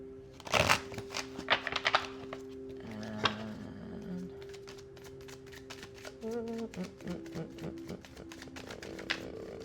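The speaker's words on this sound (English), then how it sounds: "Let's shuffle the cards one more time here." Tarot cards are shuffled in several quick riffling bursts, fluttering and snapping up close, between quieter stretches with a faint tone underneath.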